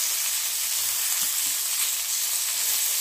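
Sausage frying in a pan without added oil, a close, constant hissing sizzle that holds steady throughout with a couple of faint low stirring bumps.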